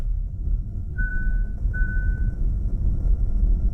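Two short electronic warning tones from a KIA EV6 lane departure warning, steady and thin, sounding over a low rumble of road and cabin noise while driving.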